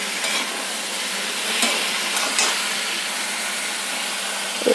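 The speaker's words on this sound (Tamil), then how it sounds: "ஒரு 2 நிமிஷம் எண்ணெயில் பிரட்டிட்டு" Capsicum sautéing in hot oil in a pan for a sambar, a continuous close sizzle and hiss with a few soft stirring scrapes, alone without talk.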